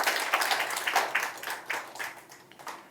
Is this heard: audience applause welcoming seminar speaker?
yes